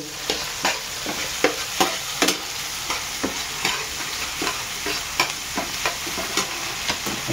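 Tomatoes and onions stir-frying in a pan for Schezwan fried rice, with a steady sizzle under repeated scraping stirs of a spatula at an irregular rhythm, close and alone.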